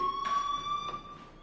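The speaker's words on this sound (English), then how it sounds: "do you hear that fire alarm? That means you should be outside." Fire alarm ringing in the video game Life is Strange, a steady electronic tone holding through the clip with brief louder pulses, alone and fairly quiet.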